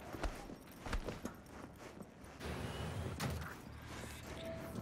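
Horse hooves clip-clop in the video game Cyberpunk 2077, a string of faint, uneven knocks followed by a soft rushing backdrop, with no talking.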